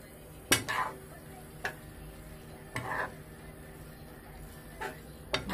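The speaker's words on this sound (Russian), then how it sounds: "вот так мы сейчас их перемешиваем" Seafood pasta is stirred in a pan, heard as a few separate utensil clanks and scrapes against metal spread across several seconds over a faint background hiss, fairly quiet and close.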